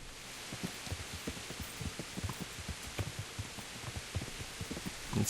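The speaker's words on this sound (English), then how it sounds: "It is raining a little bit." Light rain falling in the medieval video game Kingdom Come: Deliverance, a soft steady patter with faint irregular low thumps, no talking.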